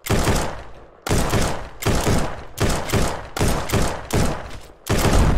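Rapid sniper shots in a Super Smash Bros match sound as a steady series of about seven loud, sharp blasts roughly one per second, each trailing a short rumble.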